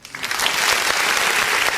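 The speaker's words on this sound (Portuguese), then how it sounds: "Vamos aplaudir o nome do Senhor?" A church congregation claps together at the close of a worship service, a loud, dense, even burst of applause filling the whole moment.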